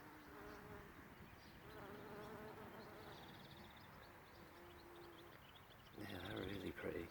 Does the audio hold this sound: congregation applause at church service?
no